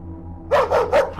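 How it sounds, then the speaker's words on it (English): A dog barks three times in quick succession at a house door, loud and close, with a faint steady hum running beneath the barks. "Right away, Bear ran to the door and began to bark."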